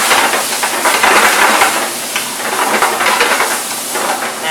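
Loud hissing sizzle as water hits hot curry spices and cashew paste in a pan, a dense steady burst of steam and spatter up close, with no voices.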